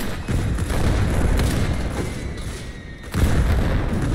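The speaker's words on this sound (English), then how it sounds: "That's a grenade." Grenades and gunfire in a trench-warfare battle video game, a dense run of low booming blasts and rumbling shots that dips briefly near the end before a fresh burst of explosions.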